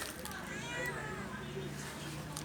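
A plump pet cat meows faintly at feeding time while a person keeps calling to it, the soft meows partly buried under the steady talk.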